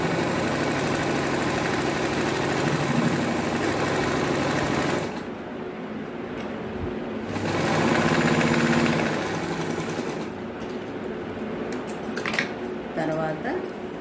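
A sewing machine stitches blouse cloth in two loud motorized bursts of whirring, rapid needle strokes, separated by pauses with small handling clicks and rustles, with someone speaking in between.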